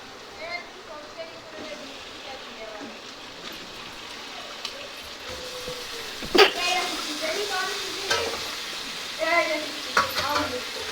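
Washed chicken meat goes into a pan of frying spice masala, setting off a sizzling hiss with a sharp splash and crackle midway, then stirring scrapes and spits as a voice talks over the cooking.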